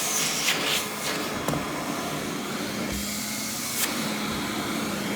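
A Rainbow D4c SE Performance Edition canister vacuum cleaner runs with a steady, close whooshing roar and a faint hum beneath, with a couple of brief clicks or bumps from the attachment and no talking over it.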